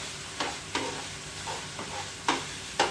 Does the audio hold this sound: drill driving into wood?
no